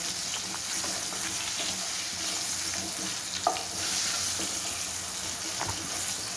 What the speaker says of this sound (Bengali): এবার সুন্দর করে নাড়িয়ে দিচ্ছি, নাড়িয়ে লাল লাল করে আমি আলুটা ভেজে তুলে নেব